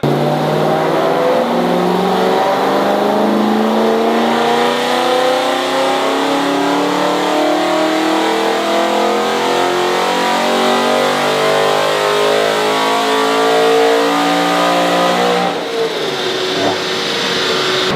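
A rebuilt, crash-damaged BMW M3 engine runs for the first time, holding a loud, steady note that climbs gradually in pitch as the revs rise, then drops abruptly near the end.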